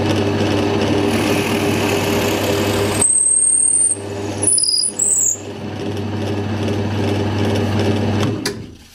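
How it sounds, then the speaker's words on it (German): Power drill boring a hole through wood in a workshop build of a router table lift: a loud steady motor whine with a low hum runs, cuts out briefly, then resumes before stopping, with no voices. "Bohren hier schnell ein Loch durch."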